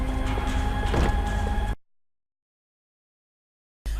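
Security doors in Max Payne 3 grind and hum loudly with a mechanical rumble for under two seconds, then cut to silence before the sound resumes.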